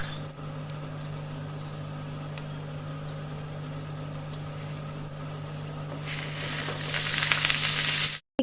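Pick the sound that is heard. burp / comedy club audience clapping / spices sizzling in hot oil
spices sizzling in hot oil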